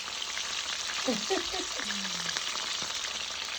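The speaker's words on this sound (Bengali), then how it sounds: "ট্র্যাডিশনাল রান্না চলতেছে নোনা ইলিশ" Salted hilsa fish fries in a pan with a steady, close sizzle and crackle throughout, while a short vocal sound briefly rises over the frying partway through.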